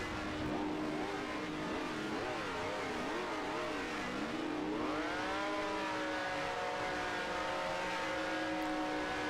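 A Ferrari race car engine in a sim racing game revs loud and continuously, pitch wobbling up and down through gear changes before climbing into a sustained high whine.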